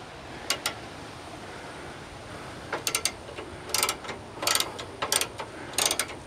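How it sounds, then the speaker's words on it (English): A ratchet wrench clicks in short bursts of rapid ticks while tightening bolts on a prerunner-style bumper bar being mounted on a Ford Bronco Badlands, the bursts coming in irregular groups, close and fairly loud over a quiet background. "Always grab it by the ratchet side."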